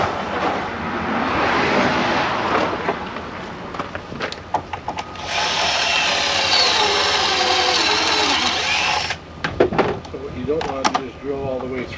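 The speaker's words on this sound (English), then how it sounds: "drill all the way through." A power drill boring a test hole through a piece of scrap wood during an RV bathroom cabinet build, with a loud close grinding whir that rises and stops, then scraping and handling noises, with a person speaking briefly.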